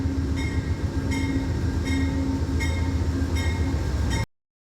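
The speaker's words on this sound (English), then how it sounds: "this train emerges from the snow, challenging the winter conditions" A train rolls along the rails in winter snow, a steady loud rumble broken by regular clicking wheel beats about every three-quarters of a second, then the sound cuts off abruptly.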